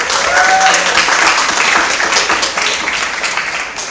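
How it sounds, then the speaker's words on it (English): Audience at a public debate applauding the cabinet teams, a loud, dense burst of clapping that holds steady and slowly thins out, with a few faint voices in the crowd. "Everyone, please give them a big round of applause."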